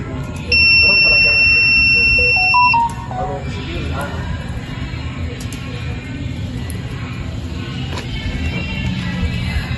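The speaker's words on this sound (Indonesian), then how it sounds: "Jika MQ5 mendeteksi gas, maka buzzer akan berbunyi" Buzzer of an MQ5 gas detector sounding as lighter gas is detected: one loud, steady high-pitched tone lasting about two seconds near the start, then only background hum and talking.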